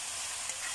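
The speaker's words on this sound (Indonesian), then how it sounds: "aduk merata" Tempeh, petai and green chili are stirred in a frying pan, giving a steady, close hiss of sizzling oil with soft continuous scraping throughout.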